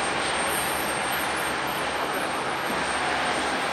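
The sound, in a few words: airplane at Fukuoka Airport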